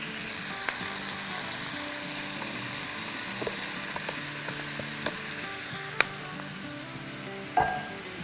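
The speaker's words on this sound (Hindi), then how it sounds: "अब इसमें डालेंगे 2 tablespoon soya sauce, 3 tablespoon होयसम sauce," Soy sauce and hoisin sauce sizzling in a hot pan, a loud continuous hiss with occasional stirring clicks and scrapes, no voices.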